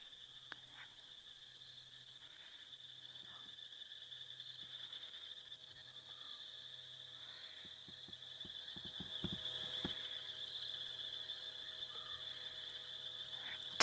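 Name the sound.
rain frogs calling at night in the Mara, Kenya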